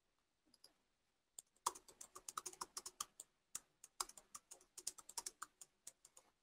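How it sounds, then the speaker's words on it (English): A computer keyboard clatters with quick, irregular keystrokes in several bursts, recorded close up and alone with no voices. "So as I'm typing"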